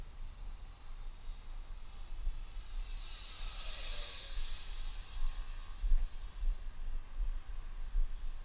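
An E-flite F-16 Thunderbird RC jet with a 70mm electric ducted fan sweeps past in a faint, rising and falling whine over steady outdoor wind hiss, without talk.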